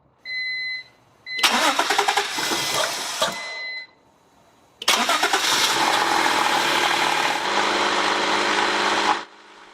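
A 1992 Acura Legend engine cranking and catching, then running: an initial start that dies after a couple of seconds, followed by a second crank that settles into a loud, steady idle before cutting off, close up with no talking.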